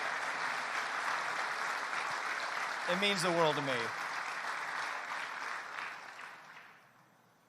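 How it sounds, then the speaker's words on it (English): A campaign-event crowd in Cincinnati keeps up a sustained roar of applause while someone speaks briefly over it, the clapping gradually fading away toward the end. "Give these people who have shaped and touched my life in different ways a big round of applause"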